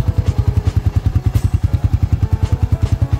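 Kawasaki KSR motorcycle with bore kit fitted and its stock exhaust refitted, idling close by with a loud, steady, rapid thumping pulse and slight mechanical clatter, no voices.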